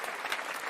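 A short burst of applause, dense and hissy with a steady wash of clapping and no distinct voices.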